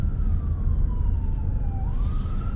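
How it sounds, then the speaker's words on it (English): A police car siren wails and sweeps in pitch as it passes near a roundabout on a housing estate, heard over the steady close engine and road rumble of a car waiting to pull out. "We're just going to wait for whatever siren that is. It's a police car."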